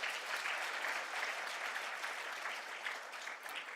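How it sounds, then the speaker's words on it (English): A graduation audience breaks into applause, a dense continuous patter of clapping from a large crowd, heard at a moderate distance and holding steady throughout with no voices on top. "Another round of applause for her"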